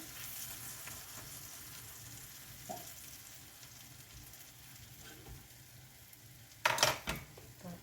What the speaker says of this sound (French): Je vais les faire revenir un petit peu de chaque côté